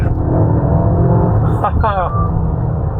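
A Mercedes-Benz GLA with a turbocharged gasoline engine accelerates hard, heard from inside the car as a loud, deep engine drone with rising rev sweeps midway. A person talks over it.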